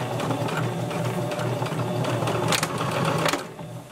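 Sewing machine stitching fleece into a scarf tube, a steady close rhythmic whirring hum running throughout.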